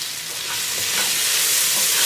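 Black pepper stirred into a simmering curry crab soup, a steady soft hiss of liquid with faint spoon movement throughout, no voices.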